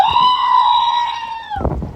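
A goat gives one loud, drawn-out bleat at a park, close to the microphone and lasting over a second, followed by brief rustling and handling noise.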